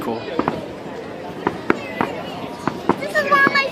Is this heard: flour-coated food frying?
no